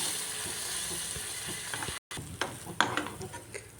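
Rava simmering in milk over a low flame for milk rava kesari, stirred with a spoon that scrapes and knocks against the pan in steady strokes, close and fairly quiet under a soft bubbling hiss.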